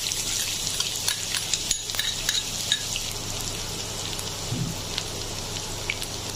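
Chopped onions fry in oil in a pan for kalai dal, a steady bright sizzle with small pops and occasional stirring scrapes, close and continuous with no talk.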